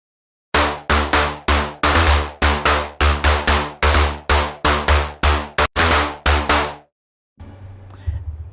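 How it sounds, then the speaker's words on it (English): A hard, plucky synth layer plays a run of sharp, bright stabs, each attacking hard and then decaying quickly, in a steady rhythm before stopping abruptly. "this is just like my hard plucky type of higher layer, so it sounds like this"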